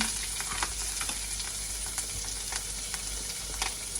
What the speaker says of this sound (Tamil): அந்த எண்ணெயிலே நல்லா வதங்கட்டும் வெங்காயம் நல்லா வதங்கி